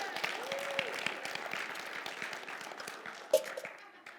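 Church congregation clapping in a broad wash of applause, steady and moderately distant, with a sharper burst near the end and voices mingled in the crowd noise.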